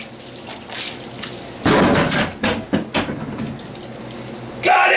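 Water gushes and splashes from a broken kitchen sink, with a steady rushing flow broken by several louder bursts and clanks close by. No one speaks over it.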